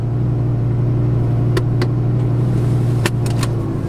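An Audi R8 with a V10 engine and R-Tronic gearbox holds a loud, steady engine drone close by, with a few brief clicks and ticks over it and no talking.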